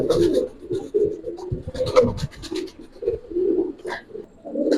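Giribaz pigeons of the silver khaki type cooing nearby, a run of low, throaty coos in short repeated phrases, mixed with light scratching and rustling.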